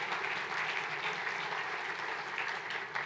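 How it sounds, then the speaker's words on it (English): Sustained applause from the audience at a business group's annual meeting, a dense even wash of clapping heard alone at moderate loudness throughout. "You can applaud for that too."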